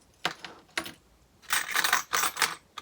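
Metal bag hardware (a zipper end, one-inch swivels, a rectangle slide, D-rings and rectangle rings) clinks and jangles as it is handled, in several short bursts of light metallic rattling close by.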